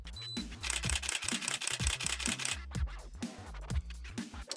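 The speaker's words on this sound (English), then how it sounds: "you just press the shutter button and depress it completely" A DSLR camera's shutter fires in a rapid burst of sharp mechanical clicks, several in quick succession, close and fairly loud with no voices.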